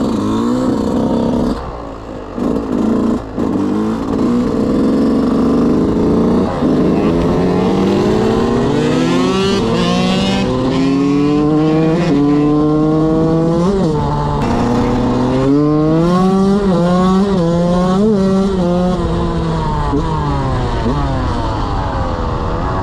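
A motorcycle engine in Bergamo, Italy revs repeatedly, pitch climbing and falling in loud surges, with a brief drop early on and voices talking faintly underneath.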